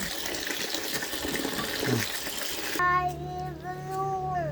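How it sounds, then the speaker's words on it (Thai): Rice noodles for traditional khanom chin being rinsed in clean water, a steady broad splashing and running-water wash for the first few seconds before giving way to a louder tonal sound near the end. "ล้างน้ำสะอาด"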